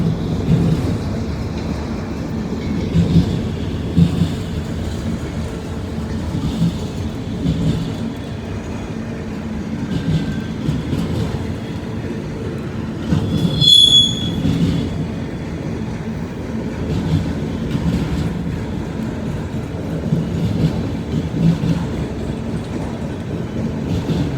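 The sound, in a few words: freight train of auto rack cars passing, wheels squealing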